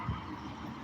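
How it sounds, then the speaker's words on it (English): A big truck rolls past on a road outside, a short, broad rumble of engine and tire noise, moderately distant and fairly faint, with no voices. "there's a big truck coming too"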